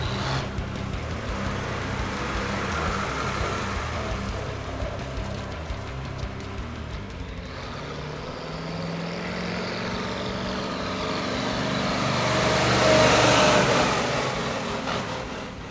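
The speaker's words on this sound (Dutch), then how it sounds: "Alleen het geluid, dat vind ik gewoon V8." Deep V8 engine of an International 1468 truck rumbling steadily at close range, its low throb rising a little toward the end, with no talk over it.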